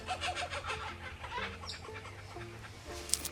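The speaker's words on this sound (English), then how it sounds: "Kookaburra, I'm not sure whether you can hear it or not." A kookaburra calls outdoors at a frosty riverside campsite, a run of rapid, cackling, laugh-like notes that rise and fall over several seconds at moderate distance.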